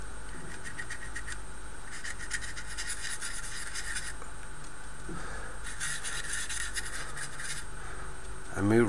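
A brush rubs weathering pastel dust into the joins and surfaces of a Tamiya 1/35 Panzer II scale model tank, making a soft, steady scratchy rasp that swells in repeated bursts, close and fairly quiet.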